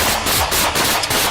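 Loud, rapid bursts of automatic gunfire rattle across a parking lot during a police confrontation, in a fast repeating rhythm, close and harsh, with no voices.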